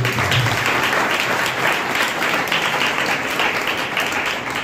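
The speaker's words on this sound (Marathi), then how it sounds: "विद्यार्थी मित्रांनो, एकदा जोरदार टाळ्या वाजवा" Students applaud at a school felicitation ceremony for meritorious pupils, a dense, loud, continuous burst of many hands clapping that holds steady throughout.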